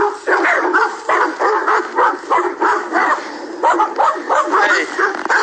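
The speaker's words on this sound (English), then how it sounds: "you barking at me or a bicycle?" A dog yips and barks repeatedly at a passing mountain biker on a ride to town, with close, loud, excited barks and whimpers in an uneven rhythm.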